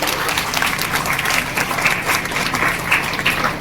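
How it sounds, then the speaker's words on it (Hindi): A crowd applauding steadily at a church feast ceremony for the Nativity of the Blessed Mother Mary, a dense, even wash of many hands clapping throughout, fairly loud, with no talk over it. "कृपया उनके लिए जोरदार ताली बजा देंगे।"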